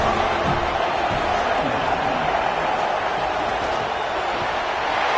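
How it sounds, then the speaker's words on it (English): A stadium crowd roars at a college football game in the College Football 27 video game, a dense, loud, unbroken wash of cheering that holds steady with no clear voices standing out. "this crowd is at fever pitch"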